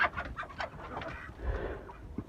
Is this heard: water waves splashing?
no